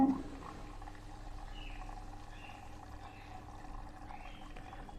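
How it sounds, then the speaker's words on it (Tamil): A Bosch 8 kg front-load washing machine filling with water after the start button is pressed: a faint, steady rush of water flowing in, heard alone at low level. "தண்ணி வர ஆரம்பிச்சிடும் உங்களுக்கு."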